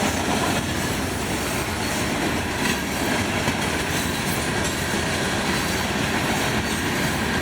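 A rock train rolls past at close range, a steady loud roar of wheels and railcars with faint clickety-clack and squeal, continuous and unbroken with no voices.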